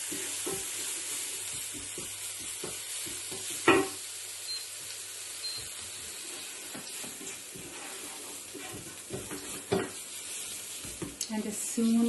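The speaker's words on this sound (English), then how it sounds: "you can put in the ginger as well. Give it a stir. Keep stirring." Ginger and spices sizzle and fry steadily in a pan for the whole stretch, with a soft hiss. A utensil stirs them, giving occasional scrapes and clinks against the pan. No one speaks.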